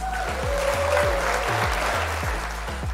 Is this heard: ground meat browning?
no